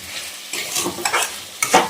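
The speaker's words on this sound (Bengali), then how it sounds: "ভালো করে কষিয়ে নিচ্ছি" A cauliflower and banana flower fritter curry is sautéed in a pan, with close bursts of stirring and scraping over a light sizzle, in uneven strokes and no voices.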